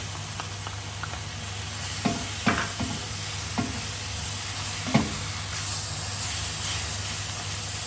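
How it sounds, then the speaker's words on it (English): Puy lentils and garlic cook in a hot pan with a steady sizzle and hiss, broken by several sharp scrapes and knocks of stirring; no one speaks. "Into that now, I'm just going to add all of my lentils and my garlic."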